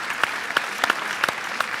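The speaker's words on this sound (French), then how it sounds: "Merci beaucoup, on l'applaudit." A talent show audience claps briefly for an act: sparse, scattered claps over a soft crowd bed, a few sharper hits standing out over under two seconds.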